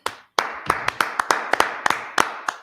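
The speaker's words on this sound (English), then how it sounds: "Let's clap it up for the Lord." A few people clap in a religious class setting, sharp separate claps in a loose, irregular rhythm after a short silence, close and fairly loud with no voices over them.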